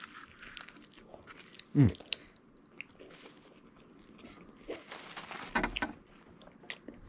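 Someone bites into and chews a shawarma up close, a loud crunchy bite early on followed by softer mastication and a murmured sound of enjoyment, with a few quieter chewing noises later.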